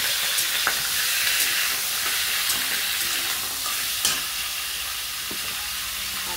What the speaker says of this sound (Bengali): যে তেল দিলাম বন্ধুরা, ওটার মধ্যে কিন্তু মাংসটা আমি ছেড়ে দেবো।